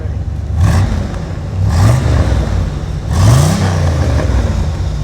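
A 1977 Chevrolet Corvette with a 350 V8 crate engine revs and accelerates outdoors in three rising surges, loud and fairly close, its engine note climbing and falling each time.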